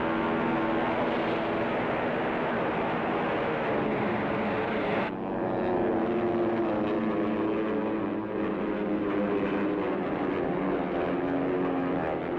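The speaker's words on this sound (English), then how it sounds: "The sky is filled with enemy planes." Enemy warplanes fly overhead over Iwo Jima in the war game Combat Zone. Their propeller engines make a loud, constant drone that drops suddenly midway and then goes on.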